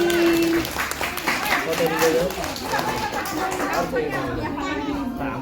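A group of children clap together in a classroom setting, a brisk patter of hands that rises and fades, mixed with chatter and talking voices throughout.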